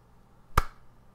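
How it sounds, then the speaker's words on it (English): A single sharp slap of a palm hitting a face, one brief close smack against quiet background. "this is the sound of my palm and my face."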